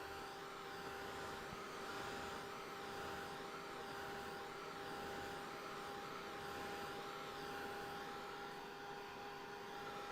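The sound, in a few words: hair dryer drying a watercolor painting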